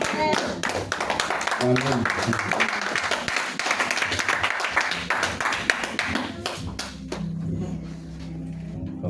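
A church congregation claps together in sustained applause to acclaim the word of God during a worship service, with voices and an amen mixed in over the dense clapping, which thins out toward the end.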